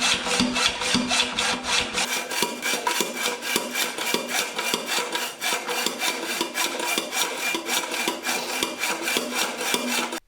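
Hand hacksaw cutting through the steel exhaust flange at the muffler of a 1998 Chevrolet Blazer, a close run of rapid, regular rasping strokes that continues steadily throughout.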